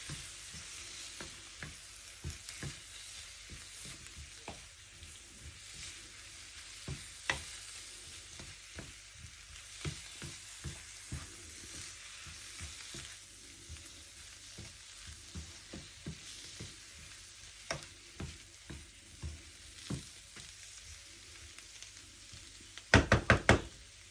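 A prawn and potato curry with chili powder and salt is stirred in a pan over a continuous sizzle, the spoon knocking against the pan in repeated, irregular taps, with a quick burst of knocks at the end.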